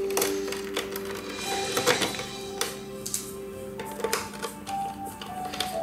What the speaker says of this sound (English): remove this bigger screws here from the cover